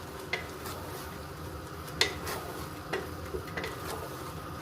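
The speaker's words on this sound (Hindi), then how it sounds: "तेज़ आग पे अब आपने कीमे को भूनना है।" Minced meat keema for Hyderabadi keema biryani fries over high heat in a pan, a soft, steady sizzle with occasional scraping taps of a spoon as it is stirred.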